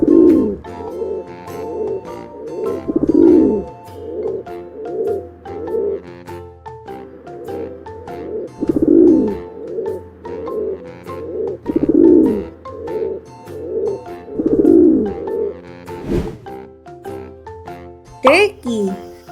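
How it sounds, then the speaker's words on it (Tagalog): A pigeon coos in repeated low, throaty bursts at a regular rhythm, close and fairly loud, with a brief higher note near the end. "Pigeon."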